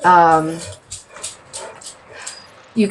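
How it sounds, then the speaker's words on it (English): Dogs indoors giving a short whimpering, yelping vocalization at the start, followed by several faint, brief yips or barks at intervals and another near sound at the end. "I'm sorry, the dogs are barking."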